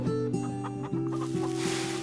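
Chickens in the video game Farm Together cluck softly over a steady low electronic hum, a few short clucks scattered through the moment.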